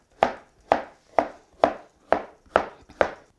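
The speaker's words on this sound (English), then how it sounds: "I'm just gonna give them a nice big rough chop" Zucchini being roughly chopped with a knife on a cutting board, seven sharp, evenly spaced chops at a steady rhythm, close and clear with no talking.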